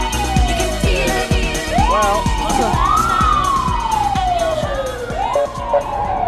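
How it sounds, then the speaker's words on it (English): A fire engine and an ambulance race through Times Square in 1998, with loud, close sirens wailing and sweeping up and down over a pulsing engine rumble and city noise. "We've got the fire services everywhere, fire engine and ambulance."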